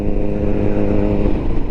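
A 2021 Honda CBR1000RR-R Fireblade SP with a flashed ECU pulls hard, its engine a loud, close, continuous roar filling the whole moment.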